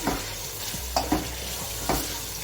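Pulao biryani masala sizzling steadily in a pan while a spoon stirs it, giving a constant frying hiss broken by several distinct scraping strokes, close and fairly loud.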